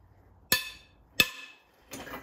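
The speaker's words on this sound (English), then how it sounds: "bolt number four made a pranging noise" A head bolt on a BMW E36 M52B30 stroker engine snapping under torque, heard as two sharp, bright metallic pings close together, then a duller ringing clink, each with a short metallic decay.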